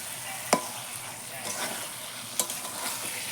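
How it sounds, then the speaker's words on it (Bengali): Marinated chicken fries in a spice masala, a soft continuous sizzle broken by two sharp scrapes of a stirring spoon against the pan. "এরপর ম্যারিনেট করা চিকেনটা দিয়ে দেবো, দিয়ে এইভাবে 10 থেকে 15 মিনিট কষাতে থাকবে।"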